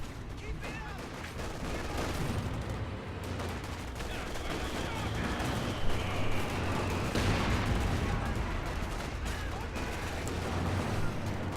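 Company of Heroes 2 multiplayer match on a 2v2 map, with half-tracks firing amid a dense battle: continuous rattling gunfire and distant explosions mixed under steady commentary.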